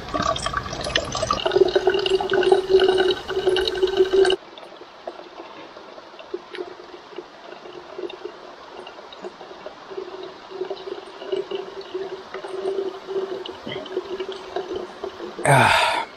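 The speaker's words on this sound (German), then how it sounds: "Jetzt können wir gleich erstmal Wasser auffüllen und saufen." River water pours and gurgles into bottles close by during a mountain hike, a loud splashing fill for about four seconds that drops to a softer, steady trickle and flowing-water hiss.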